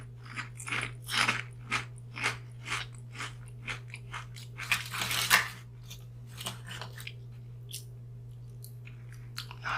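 Salty, buttery potato chips are crunched and chewed up close during an ASMR taste test, with a run of crisp bites and rhythmic chomping sounding loud and intimate against a low steady hum.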